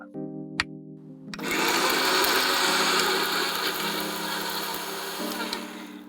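A mixer grinder dry-grinds spices for paneer Kolhapuri masala, switching on after a low hum and then roaring loudly and continuously up close with a rattling whir until the end.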